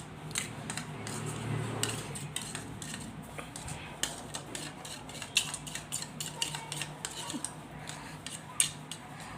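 A spoon stirs a pinch of salt into curd in a bowl for dahi boondi chaat, giving a run of light, close clinks and scrapes against the bowl over a soft background hum, with no talking.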